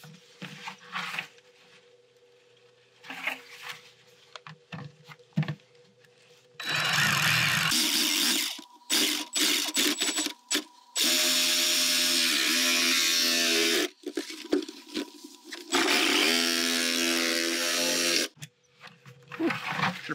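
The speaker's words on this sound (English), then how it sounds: "Doing all this with a jigsaw with a hacksaw blade." A jigsaw fitted with a hacksaw blade cuts around a perimeter, a loud buzzing roar in several long bursts with short pauses and clattering between them, close to the listener.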